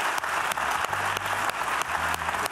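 Steady applause from a studio audience at a Telethon charity marathon broadcast, with dense clapping holding throughout and a faint low musical tone underneath.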